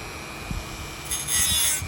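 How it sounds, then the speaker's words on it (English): A Dremel rotary tool cuts a channel while replacing a travel trailer awning, giving a close, rough grinding rasp that swells louder near the end, with no talking. "If you're not used to using the Dremel,"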